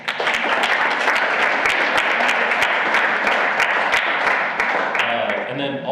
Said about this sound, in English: Can we actually give a round of applause for Senator Jones?